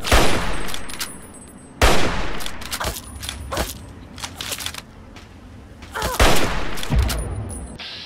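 Repeated bursts of gunfire crack through the Capital Wasteland in Fallout 3, coming in loud volleys separated by short lulls and single shots.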